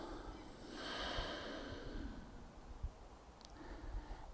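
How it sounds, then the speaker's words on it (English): A slow, steady breath drawn in and let out close to the microphone, soft and airy with a gentle rise and fall, heard alone. "breathe in and breathe out"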